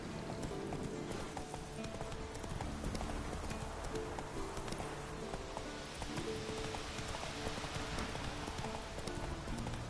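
Horse galloping in The Witcher 3: Wild Hunt, a steady rapid clip-clop of hooves held close and loud throughout, with a soft patter of rain beneath.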